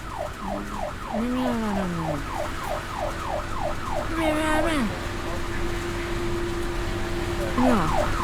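An ambulance siren wails from inside the vehicle in the Helping Hand video game, its rapid rising-and-falling yelp repeating steadily through a muffled cabin with background rumble, and other electronic tones sliding underneath.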